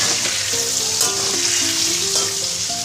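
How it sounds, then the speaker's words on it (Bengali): Potato pieces seasoned with salt and turmeric fry in a pan with a loud, continuous hiss and crackle of hot oil, while faint tonal scraping from stirring comes through underneath. "আলুটা ভাজা হয়ে গেছে, এখন তুলে নেব।"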